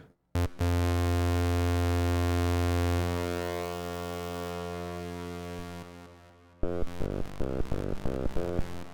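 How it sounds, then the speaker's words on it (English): A sustained, heavily distorted VPS Avenger synthesizer drone holds and slowly fades, then breaks into choppy, gritty rhythmic stabs. "Then we'll add distortion."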